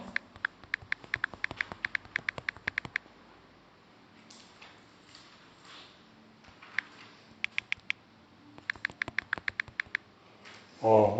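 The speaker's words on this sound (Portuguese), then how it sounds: "vai ficar até o barulhinho do teclado aqui depois na gravação" Computer keyboard typing close by, bursts of rapid clicking keystrokes separated by pauses, fairly quiet, with a short rustle at the end.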